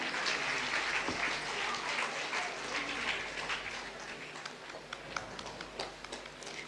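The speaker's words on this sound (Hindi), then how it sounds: "तालियां भी आपकी ओर से हों।" An audience at an official ceremony applauds with steady, dense clapping that fades slightly toward the end.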